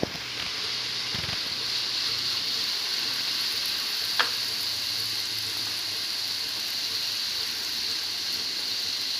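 Achappam batter on a mould dipped in hot oil, frying with a steady, even sizzle throughout, close and moderately loud, with one brief sharp crackle midway.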